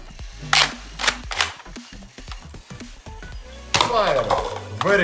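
Toy Nerf shotguns snap out foam darts in a string of sharp pops and clacks, close and fairly loud, with rattling handling between shots and a burst of excited chatter near the end.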